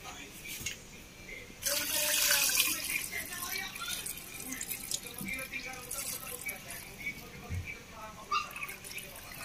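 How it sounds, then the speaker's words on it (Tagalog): Water pours from a tap into a pot or sink, gushing strongly at first and then running more softly, with some clinking and a voice in the background. "lagyan na natin yung tubig"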